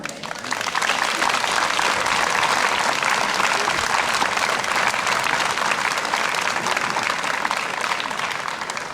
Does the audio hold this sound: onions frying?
no